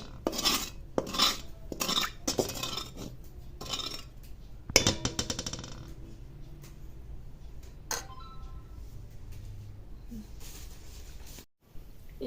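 A spoon clinks and scrapes against a metal pan while ghee melts for carrot halwa, with quick rattling strokes early on and a burst of clatter near the middle, then quieter scraping over a low background hum.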